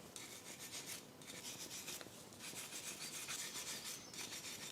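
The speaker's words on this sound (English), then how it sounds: "we're going to take this wire brush and we're going to clean the insides of the caliper" A wire brush scrubs rhythmically inside an Audi Q3 front brake caliper, a quiet close scratchy rasp in repeated short strokes with no voices.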